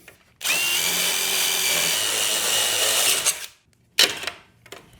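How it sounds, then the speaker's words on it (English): A power drill whirs loudly for about three seconds while drilling holes, stops, then gives a short second burst; nearby and without speech. "if I drill the holes using that bit"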